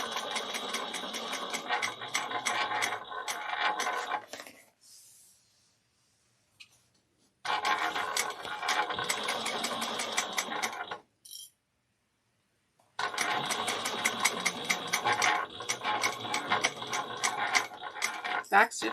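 A sewing machine stitches a bag in three close, loud runs of rapid mechanical whirring and clatter, separated by short silent pauses.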